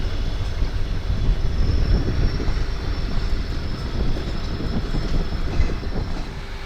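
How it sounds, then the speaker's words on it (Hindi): A passenger express train hauled by a WDP4 diesel locomotive rolls out of Rai Ka Bagh Palace Junction. Wheels rumble steadily on the rails with a constant low roar and a faint whine, heard close and with no talking. "राई का बाग पैलेस जंक्शन से निकलती हुई हमारी ट्रेन।"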